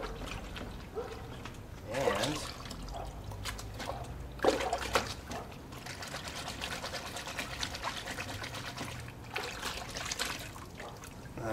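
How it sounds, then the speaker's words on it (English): Water trickles and sloshes as a cold air intake filter from a 2016 Golf R is swirled around in it, with small splashy bursts over a quiet background. "So I'm just twisting around in the water."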